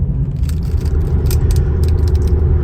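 A car driving along back roads on the way to work gives a steady, loud low engine and road rumble throughout, with faint rattles and clicks from the cabin on top.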